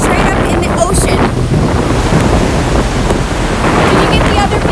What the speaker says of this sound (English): Look at those waves. It looks like we're straight up in the ocean.